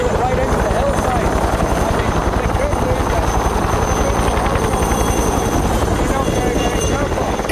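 Loud, steady rotor thump and engine roar from a helicopter working on cable car construction in the mountains of Hong Kong, continuous and close throughout.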